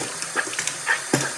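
Water running from a bathroom tap beside a sink while teeth are brushed, a short close splashing trickle with small clinks.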